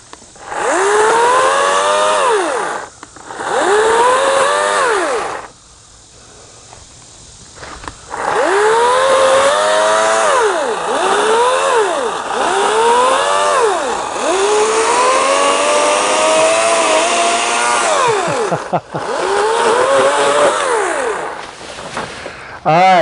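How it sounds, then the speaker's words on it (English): An EGO battery-powered electric chainsaw whines up to speed in repeated loud bursts, rising and falling in pitch as the trigger is squeezed and released, with short pauses between runs and people talking nearby. "it works like a regular chainsaw. It's just got a battery."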